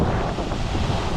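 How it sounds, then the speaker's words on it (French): Rough, churning surf noise fills the clip, waves slapping and washing against rocks with heavy wind buffeting the microphone. "là vous voyez les vagues elles arrivent en fait, elles viennent s'engouffrer dedans, ça tape"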